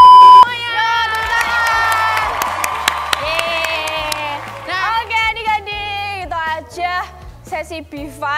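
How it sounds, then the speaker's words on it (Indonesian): Children at an online kids' church service cheer and clap for a game winner. Excited shouts and whoops overlap with bursts of clapping, then give way to scattered, uneven voices and calls. "Oke, beri tepuk tangan."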